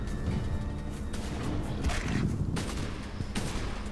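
A newly picked-up gun in The Incredible Adventures of Van Helsing fires in dense, continuous volleys. The rapid, overlapping shots blur into a rough, sustained roar of gunfire and impacts.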